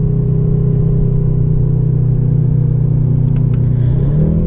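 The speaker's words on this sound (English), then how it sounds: "now we're gonna downshift again to second. And give it a little acceleration." Mercedes-AMG GT 63 engine pulling in second gear under acceleration, a loud, steady, close-up drone from inside the car that climbs in pitch toward the end as the revs rise.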